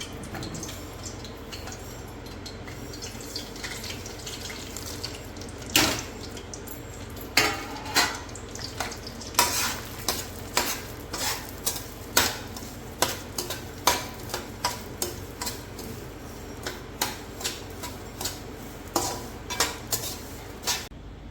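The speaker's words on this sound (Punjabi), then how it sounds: "ਇਹਦੇ ਵਿੱਚ ਆਪਾਂ ਹੁਣ ਪਾਵਾਂਗੇ ਖਸਖਸ" Poppy seeds fry in desi ghee in a kadhai under a soft, steady sizzle, while a ladle stirs and scrapes the metal pan in frequent clinking strikes, close up and with no voices.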